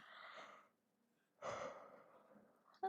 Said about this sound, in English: That was a yawn I was not expecting